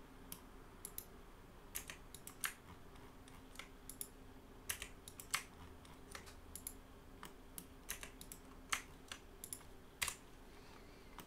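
Computer keyboard keys pressed in scattered, irregular taps and short bursts while editing in Blender, faint and close over a quiet low hum, with no talking.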